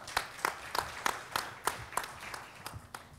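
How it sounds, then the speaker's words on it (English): Sparse, quiet applause for a speaker at a talk on technology and brick-and-mortar businesses: roughly a dozen distinct hand claps in an uneven rhythm, faint and fairly close, with no voices. "Everyone give him a round of applause."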